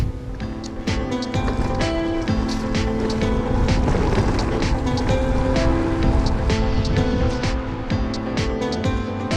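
Steady rain hisses on a surface with scattered sharper drops and taps during a downhill bike ride in Austria, continuous and fairly close, no one speaking.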